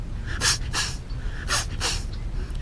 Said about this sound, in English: this one is the boxer breath